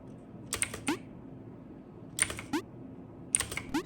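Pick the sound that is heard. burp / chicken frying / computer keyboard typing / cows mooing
computer keyboard typing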